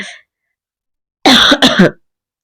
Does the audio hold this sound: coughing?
yes